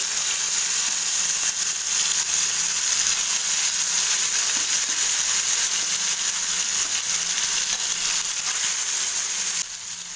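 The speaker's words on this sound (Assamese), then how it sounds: "এতিয়া তেলখিনি গৰম হৈ গ'ল, মই মাছ কেইপিচ লাহে লাহে দি দিম।" Snakehead (shol) fish pieces frying in hot oil, a steady loud sizzle that holds evenly throughout and drops slightly near the end.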